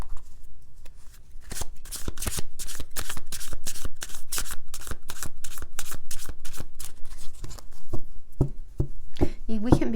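Tarot cards are shuffled close up in quick rhythmic riffling bursts, with a few slower taps and shuffles near the end and no voice over it.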